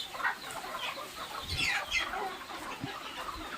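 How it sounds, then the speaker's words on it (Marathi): A flock of farm chickens kept for eggs clucks nearby in short, scattered bursts, with a few sharper calls standing out over a quiet background. "किती मस्त कोंबड्या"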